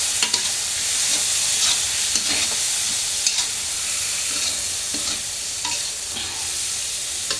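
Spices, eggs, carrots and tomatoes stir-fry in a pan with a loud, continuous sizzle broken by scattered spatula scrapes and clicks, close up and without speech.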